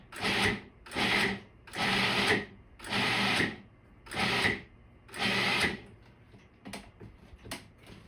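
Food processor pulsing ingredients for a ferment in six even bursts about a second long with short pauses between, loud and close, followed by faint clatter and light handling sounds.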